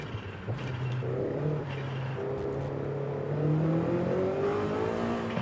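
A car engine in Forza Horizon 5 revs and climbs through its RPM range with a rising whine, and its pitch shifts as the revs build toward a higher tone. The engine sounds close and steady, with no talking.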